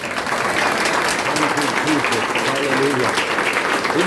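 A church congregation at a prophetic worship service claps loudly and continuously, a dense wall of applause with voices speaking over it.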